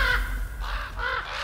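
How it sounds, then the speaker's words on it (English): Crows cawing in the God of War Ragnarok video game, three harsh raspy calls in quick succession, clear and fairly close. "Do somebody hear some crows?"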